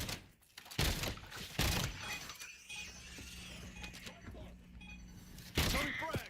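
Gunfire in the video game Black Ops 7: several loud, sharp bursts of shots and impacts, spread through a noisy stretch of combat with a steady mechanical hum underneath.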